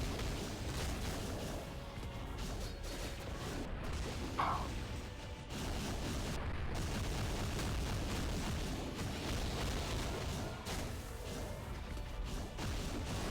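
Heavy, continuous crashing and booming from Hulk's ground-slam attacks in Marvel Future Fight, a dense, loud wall of game impacts and rumble with no clear gaps, with no talking.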